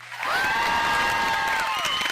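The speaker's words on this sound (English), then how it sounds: "So give me a round of applause there, Mike, for my first gallery exhibit." An audience bursts into applause with cheering and a rising whoop, dense clapping holding steady for about two seconds.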